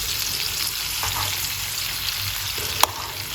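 Salmon pan-frying in butter, a continuous close sizzle and crackle with a sharp utensil tap against the pan near the end.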